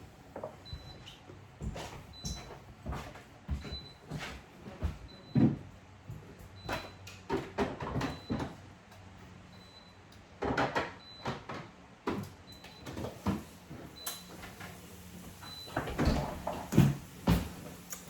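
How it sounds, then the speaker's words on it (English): A fridge door is shut in a home kitchen amid a run of knocks, clunks and rattles, fairly close and moderately loud, with quiet gaps between clusters of impacts. "I just need to shut the fridge door."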